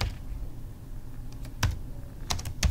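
A computer keyboard clicks as a chart axis title is typed, with a few scattered, sharp keystrokes over a low background hum, close and fairly quiet.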